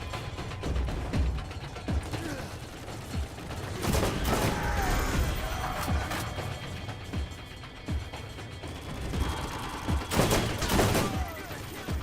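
Gunfire rattles in the first-person shooter Borderlands amid ratcheting mechanical clicks and game noise, with several louder bursts of shots around the middle and near the end, continuous and fairly dense.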